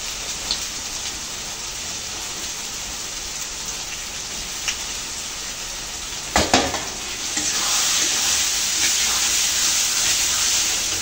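Chicken meat hitting hot fried spices in a pan, a sudden loud splash of sizzling that settles into a steady, dense frying hiss, with no talking.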